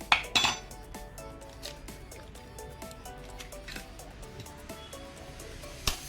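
A few sharp clinks of eggshells against a bowl rim at the start, then soft kitchen clatter and liquid drips as four eggs go in for egg shawarma.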